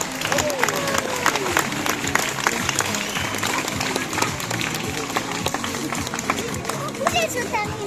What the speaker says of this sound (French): Et on peut bien sûr les applaudir toutes les deux.